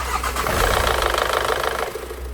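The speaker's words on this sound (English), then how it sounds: "there's a noise coming from the second-hand camshaft I've installed" Golf GTI engine running with a noise from a second-hand camshaft: a steady close mechanical clatter over a low rumble, loud and continuous with no talking.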